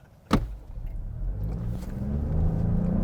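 Buick Encore GX with a 1.3-liter turbocharged three-cylinder engine and CVT, front-wheel drive, accelerating: a sharp click, then a low engine drone that rises steadily and grows louder, heard from inside the car.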